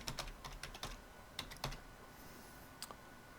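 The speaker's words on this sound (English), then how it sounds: "And now I'm going to enter a password." Password typed on a computer keyboard during a server operating system install, a quick irregular run of soft, close key clicks over a quiet room, with no talk.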